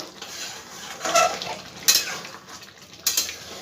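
Chicken kheera curry being stirred in a pot: a few scraping clinks of a spoon against the metal over a soft background hiss, with louder knocks near the middle and end.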